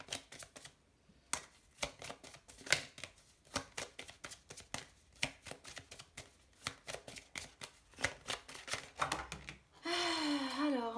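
Tarot cards being shuffled by hand in quick, rapid riffling bursts close up, with a voice speaking briefly at the end.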